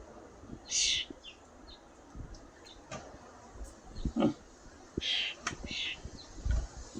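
Small birds in a flock give scattered high chirps and tweets, some close and some farther off, over a faint rustling background as they arrive for birdseed.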